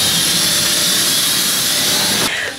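Airliner jet engines whine and roar steadily at close range while the plane taxis to the gate, a loud broadband hiss that drops off abruptly near the end.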